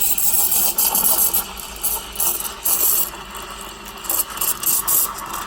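An espresso machine's steam wand aerating milk for too long, giving a steady close hiss laced with rapid, sputtering crackles and small pops that rise and dip throughout, with no voices.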